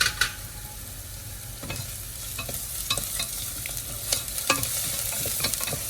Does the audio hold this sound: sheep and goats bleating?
no